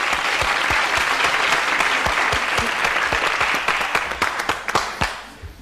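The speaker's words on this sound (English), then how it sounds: "on vous applaudit, Pascal" A studio audience at a French television quiz show applauds a contestant. The clapping is loud and dense, then thins to a few scattered, distinct claps as it fades out.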